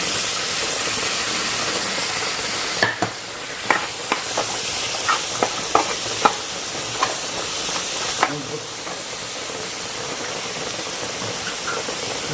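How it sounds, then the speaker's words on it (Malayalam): Onion and green chillies fry in masala for Kerala fish pollichathu, a loud continuous sizzle with a burst of sharp spoon-scraping clicks in the middle, then steady hissing alone. "നമുക്ക് വലിയ ഉള്ളിയും കട്ട് ചെയ്ത പച്ചമുളകും കൂടി അതിൽ മിക്സ് ചെയ്യാം"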